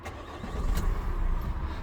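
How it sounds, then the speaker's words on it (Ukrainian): The 2.3 diesel engine of a 2021 Opel Movano van cranks and catches, settling into a low, steady rumble close by. "І автомобіль заводимо"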